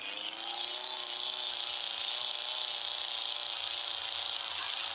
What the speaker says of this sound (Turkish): Drift atıyoruz.